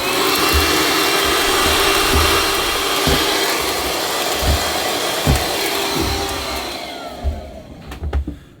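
A vacuum cleaner sucking up mess aboard a sailing boat, a loud, steady roaring whine with periodic knocks and bumps, then the motor cuts out near the end, leaving a few clatters.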